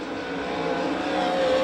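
Sprint cars race around a dirt track at an All Star Circuit of Champions Winternationals event in Gibsonton, Florida, a loud, sustained engine roar that climbs steadily in pitch as the cars accelerate out of a turn.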